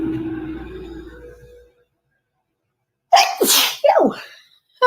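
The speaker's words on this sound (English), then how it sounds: "Oh, I'm gonna sneeze." A person sneezes at close range, a sharp burst followed by a second forceful sneeze, loud against a quiet room after some low background noise fades out.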